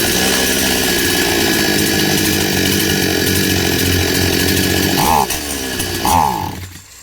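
A chainsaw engine revs steadily and loud with a poorly tuned carburettor, then the throttle drops and surges twice near the end, bogging and lacking power before cutting off.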